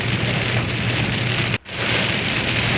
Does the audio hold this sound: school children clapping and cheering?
no